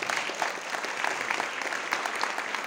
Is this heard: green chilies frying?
no